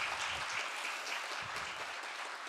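Ladies in the audience at a birthday celebration session give a round of applause, heard as a faint, distant wash of steady clapping throughout.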